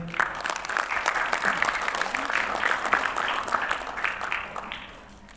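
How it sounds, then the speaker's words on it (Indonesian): An audience at a South Jakarta election commission (KPU) talk event applauds to welcome Dr. Haji Robi Nur Hadi: dense, steady clapping from a crowd that holds for several seconds, then tapers off at the end. "Boleh tepuk tangan yang meriah."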